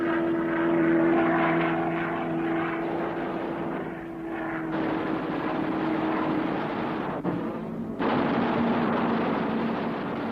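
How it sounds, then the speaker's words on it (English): Lockheed P-38 Lightning with twin Allison engines, a loud sustained propeller-engine drone that dips briefly midway and cuts sharply before resuming, with no talk over it. "rugged twin Allison engines give the Lightning exceptionally long range"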